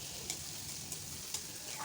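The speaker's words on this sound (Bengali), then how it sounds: "পেঁয়াজ কুচি তো দিচ্ছি, আর পেঁয়াজ একটু বেটেও নিয়েছি" Chopped onions fry in a pan for a pigeon meat curry, making a faint, even sizzle with a few light clicks, probably from stirring.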